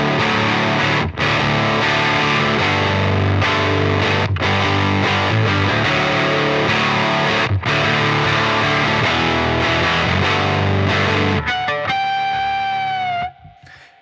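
Overdriven electric guitar run through a Midwest emo plugin with the input gain pushed high, strumming loud distorted chords steadily with brief gaps, then ringing out on a sustained note that fades at the end.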